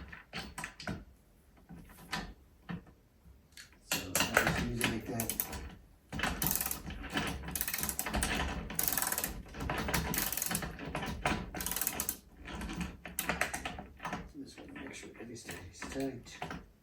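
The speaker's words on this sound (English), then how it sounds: "But this is a 16-inch socket wrench." A 16-inch ratcheting socket wrench tightens a bolt on a DeWalt DWX726 miter saw stand, giving bursts of fast mechanical clicking close by, with pauses between strokes and some voice.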